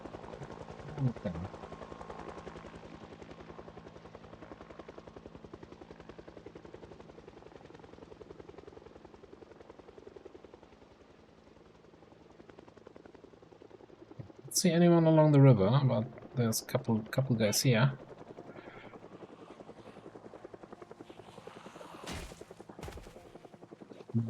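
Steady rotor drone of a helicopter circling overhead in the game Project Zomboid, moderately loud and continuous, with someone talking briefly partway through.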